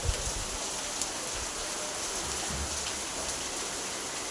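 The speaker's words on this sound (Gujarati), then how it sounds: "હજી વરસાદ બંધ રહ્યો નથી." Rain falls steadily in a constant, even hiss, with occasional heavier drops standing out against the wash.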